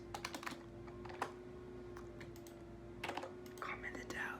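Fast clicky typing on a computer keyboard while coding a sorting-array algorithm, close and quiet, in quick bursts separated by short pauses over a faint steady hum.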